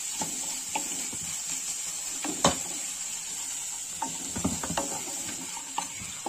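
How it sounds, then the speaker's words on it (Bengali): A spoon scrapes and taps through a pan of Bengali-style crab curry after a little chili powder goes in, with scattered light clicks over a faint steady sizzle, close and quiet. "অল্প একটু লঙ্কার গুঁড়ো দিলাম এইভাবে আর অল্প খানিক নাড়াচাড়া করে নিই"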